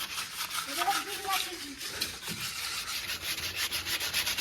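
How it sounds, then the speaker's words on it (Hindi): Hand sanding of a red-painted wheel rim with abrasive paper, pressed down firmly in steady back-and-forth strokes, a close, continuous scratchy rasp with a voice speaking briefly beneath. "अच्छा दबा के रगड़"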